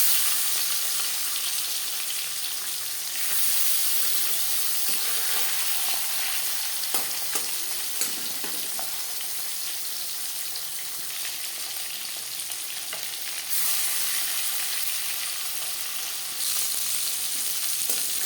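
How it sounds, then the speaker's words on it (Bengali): Marinated chela fish frying in refined oil, a loud dense sizzle held steadily for the whole stretch, with a few sharper pops and brief swells in intensity, and no talking. "এবার দিয়ে দেব ম্যারিনেট করে রাখা মাছ।"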